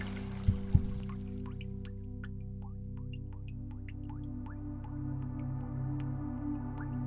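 Water dripping and trickling steadily as a tick-covered shelter dog with wiry white fur is given a deep rinse, with a couple of louder splashes early on over a constant low background hum.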